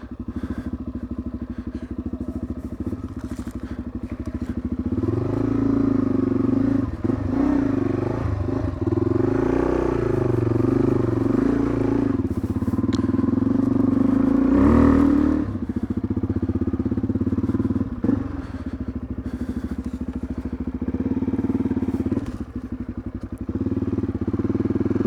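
Motorcycle being ridden, a steady loud engine drone running throughout with rises in revs midway, accompanied by wind and road rumble and occasional clunks, no talking.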